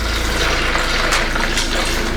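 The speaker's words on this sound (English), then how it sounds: "Then we're gonna pour some in this Simply Lemonade in here." Liquid poured into a plastic Simply Lemonade strawberry bottle for a mixed drink, a loud, steady close-up glugging stream with no talk over it.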